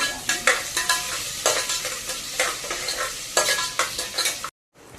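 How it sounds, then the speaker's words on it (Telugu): Onions fry with goat legs (paya) in a pan, a bright sizzle broken by repeated stirring scrapes and clatters in an irregular rhythm, close and loud, ending in abrupt silence. "అవి వేగుతున్నాయి ఆనియన్స్."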